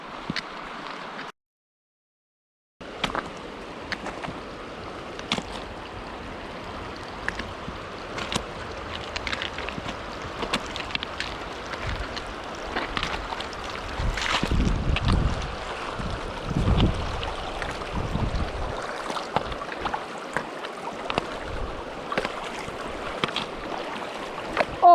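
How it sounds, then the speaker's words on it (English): Someone wades across the Queets River on a warm day, with steady rushing water and gusty wind noise across the microphone, plus occasional louder splashes and surges midway; no one talks. "Always pick a nice warm day for fording the river."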